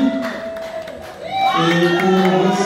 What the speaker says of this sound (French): Encore des applaudissements pour Bellevue, Candy,